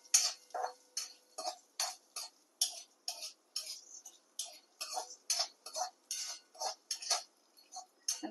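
Triphala and spices roasting in a little oil in a pan, stirred with a steady train of crisp, quick scrapes and ticks, repeated rhythmically and fairly close, with no talking.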